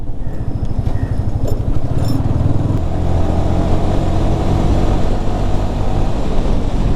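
A Yamaha R15 V3 motorcycle engine putters and rumbles close by, with a brief rev early on, then settles into a steady loud drone as it rides.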